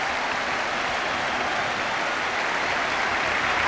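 Full-time applause from a football crowd as Tottenham are cheered off against Bristol Rovers: a broad, continuous roar of clapping at steady volume, distant and crowd-wide, with no commentary over it.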